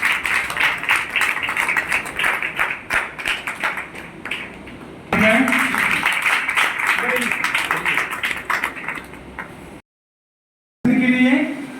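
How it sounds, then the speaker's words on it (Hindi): A crowd at a village gathering claps in loud, rapid, sustained applause, with a steady patter of many hands and voices mixed in. It breaks off briefly into silence near the end, then resumes. "जोर से ताली बजाएंगे सब लोग"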